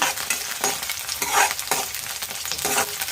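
Cumin seeds and chopped onion frying in a hot pan, a steady close sizzle broken by several sharp scraping stirs of a utensil, with no voices.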